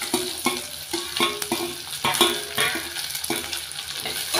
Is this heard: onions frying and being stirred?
yes